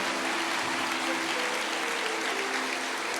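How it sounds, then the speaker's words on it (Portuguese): Church congregation applauding steadily during a worship service, a dense, continuous wash of clapping with faint voices and a sustained tone underneath, filling the room throughout. "a igreja continue aplaudindo"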